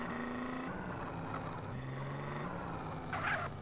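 A Chevette car driving in a video game with a modded lightweight car pack. A low, steady engine drone shifts pitch as it changes gear, heard at moderate level with a brief louder burst near the end.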